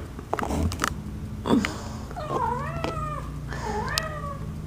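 A cat named Prince meows several times, drawn-out wavering cries in close succession with brief pauses and a small sniff between, near and clear.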